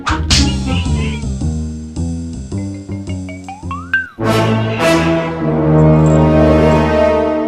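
A pet house cat meows repeatedly and loudly in a home, its calls rising and falling over a continuous tonal backdrop of music or app sounds, with a sharp rising meow near the middle.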